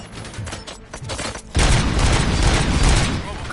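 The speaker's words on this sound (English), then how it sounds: "Gunshots?" Movie gunfire erupts in a dense, sustained burst of loud shots and booms, filling the scene after a moment of tense background noise.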